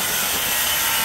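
Sheet metal duct trim piece being cut for a toe-kick supply duct under a cabinet: a brief, harsh rasping burst lasting about a second, close and fairly loud.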